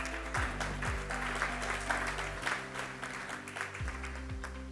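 Applause from an audience at a Spark Session event on women in innovation and intellectual property, a steady broadband patter lasting several seconds at moderate level, with a low steady hum underneath and no speech.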